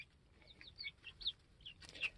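Chickens clucking in a coop, a few soft clucks and murmurs scattered irregularly, quiet and close, ending with a slightly louder squawk.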